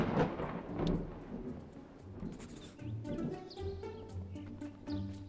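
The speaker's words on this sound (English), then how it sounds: "There, we got our thunderstorm." A thunderstorm in the farming video game Spirit of the Island: low thunder rumbles over steady rain, with faint bird calls above and no talking.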